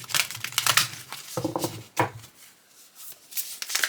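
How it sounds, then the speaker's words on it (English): Oracle cards being shuffled by hand for a one-card reading, a quick run of papery riffles and crinkly rustles in bursts with short pauses, close up and fairly loud with no talking. "Alright, so let's shuffle and we'll do a one card reading"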